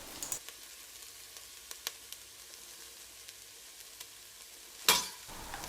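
Spring onion and ground pepper stirred into egg fried rice in a pan, a faint low sizzle with scattered soft clicks of a spoon and one louder scrape near the end, no talking.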